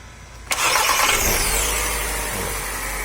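A 2016 Fiat Strada Dual Logic's starter motor cranks briefly and the engine catches with a loud burst, then settles into a steady, close idle.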